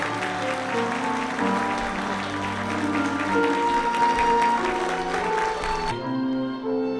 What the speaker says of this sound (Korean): 따뜻한 박수를 부탁드리겠습니다, 여러분.